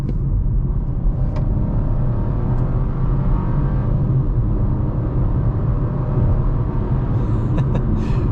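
A 2024 Chevy Trax 1LT with a 1.2-liter turbocharged three-cylinder pulls hard at full throttle from about 25 mph, its engine droning steadily under heavy road rumble from inside the cabin, with no talking.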